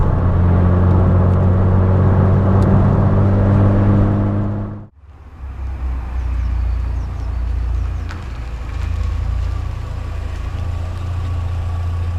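A Mk2 VW Golf GTI 8v with a loud exhaust idles with a deep, steady rumble. The sound cuts out sharply midway, then returns as a lower, rougher drone that continues to the end, with no talking.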